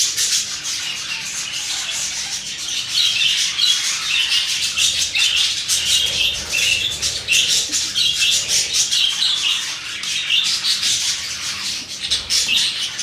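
Breeding colony of birds in cages with clay pot nests, a continuous dense chorus of high chirps and squawks with occasional wing flutters, close and steady throughout.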